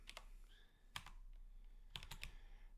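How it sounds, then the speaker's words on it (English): Quiet clicks of typing on a computer keyboard, arriving in short clustered bursts separated by pauses, close and fairly soft with no talking. "I'm just having a bit of trouble typing what it is I intended to type"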